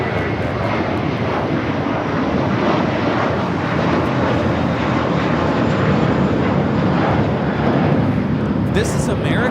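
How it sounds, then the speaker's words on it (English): American Airlines Airbus A321 taking off at Los Angeles, a loud continuous jet engine roar filling the whole stretch, sustained and close, with voices faintly present underneath. "This is American Airlines 2891 taking off to Chicago on the A321."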